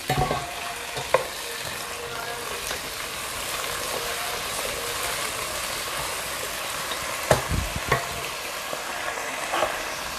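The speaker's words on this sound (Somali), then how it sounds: "ilaa 3 daqiiqo suugo way ii shiilmatay" Sauce fries in a pan with a continuous bubbling sizzle close by, broken by a few sharp utensil scrapes and clicks from stirring, with no talking.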